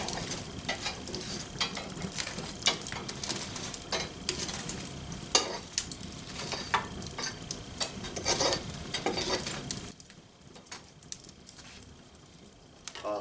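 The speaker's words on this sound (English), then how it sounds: "I'm going to rake a couple more coals out around the edges here" Venison steaks fry in ale in a pan over hot coals, with coals raked around its edges: steady close sizzling with irregular scraping and stirring knocks that quieten and thin out near the end.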